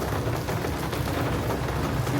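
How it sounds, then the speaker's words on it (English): Warm rain falls in Santos, Brazil as a steady, dense hiss of drops, continuous and moderately loud, with no clear voices. "So it's warm rain compared to UK"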